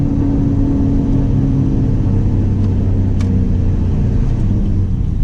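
A car with a Barton Industries short throw shifter pulls hard under acceleration, its engine rumbling loud and steady throughout with no talk over it.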